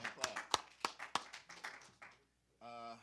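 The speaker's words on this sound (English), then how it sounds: "All right, hand clap." A group at a graduation ceremony claps in a quick burst of about eight sharp, separate hand claps, close and loud, before a pause and a brief sustained tone.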